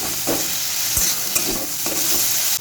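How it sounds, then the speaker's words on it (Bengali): Ginger and garlic fry in oil with melted tomato for an egg curry, crackling loudly up close while a spoon scrapes and stirs the pan in quick, irregular strokes. "রসুন আদা ভালো করে কষিয়ে নেব।"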